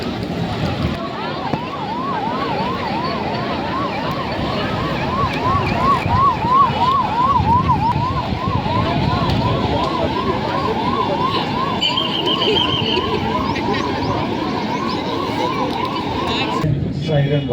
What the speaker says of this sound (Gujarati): સાયરન વાગે છે, એર રેડ નીકળે